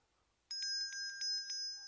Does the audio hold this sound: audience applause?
no